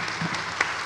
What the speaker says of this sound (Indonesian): oke, tepuk tangan buat tiga-tiganya